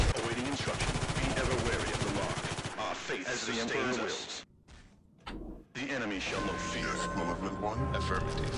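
Rapid gunfire and machine-gun bursts from a Warhammer 40,000 battle in the video game Dawn of War: Ultimate Apocalypse, loud and dense, with a brief quiet gap midway before the shooting resumes, mixed with other battle noise.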